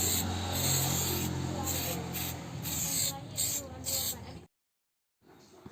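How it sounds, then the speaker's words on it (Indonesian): Spray paint hisses in short repeated bursts onto the body panels of a Honda Revo motorcycle being restored, applied in thin even coats from close range, with a voice talking over it before a brief silence. "Dengan jarak semprot 10-15 cm secara tipis-tipis merata."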